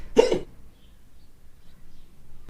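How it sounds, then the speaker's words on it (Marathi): One short, sharp hiccup bursts out close by, followed by quiet room tone. "उचकी लागली रे कदाचित"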